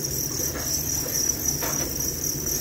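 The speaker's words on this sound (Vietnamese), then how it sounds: "Đây là thùng dế đẻ." Crickets chirping inside an egg-laying box on a cricket farm, a dense continuous high trill that runs steadily without pause at moderate volume.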